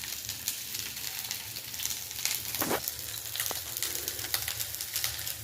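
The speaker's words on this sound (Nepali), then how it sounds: "यसमा म 5 फोरन हाल्छु र थोरै प्याज हाल्छु।" Five-spice seeds and a little chopped onion sizzling in hot oil, a steady dense crackle and hiss at close range with an occasional soft stir and no voices.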